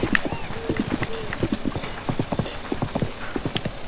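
Horse hooves clip-clopping in a Zelda video game, a quick, regular series of hollow knocks at moderate loudness, with a faint whinny-like tone early on and no talk.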